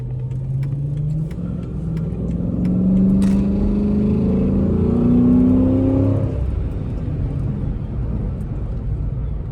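A Chrysler 300 engine revs hard in rush-hour traffic, its pitch climbing over several seconds before dropping back to a steady idle rumble.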